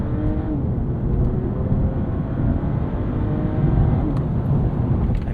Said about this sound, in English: So we'll slow down here and we'll do a bit of an acceleration.